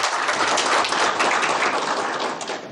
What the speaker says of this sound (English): So can we clap for him?